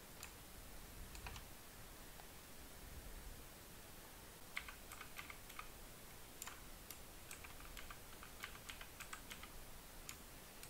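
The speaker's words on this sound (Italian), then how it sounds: "Questa è la tastiera invece, molto bella." Someone types on a new computer keyboard received as a birthday gift: scattered quiet key clicks, sparse at first and then in quicker bursts, close but faint over a steady background hiss, with no voices.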